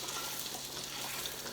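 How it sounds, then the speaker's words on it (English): Onions fry in butter in a used, unwashed pan, giving a steady, close crackling sizzle with a bright hiss that runs on evenly, without any voice. "I'm frying onions"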